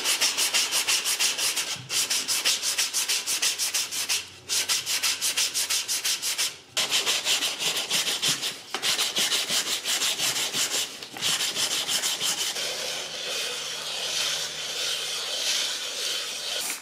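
Sandpaper is rubbed by hand over the wooden bearing edge of a drum shell in a steady, close rasping scrub that stops briefly every few seconds, then continues more softly toward the end.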